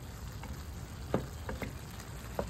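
Butter sizzling in a hot pan while cooking butter shrimp, a steady low crackle with a few sharper pops and spatters scattered through, close and moderately quiet, no talking.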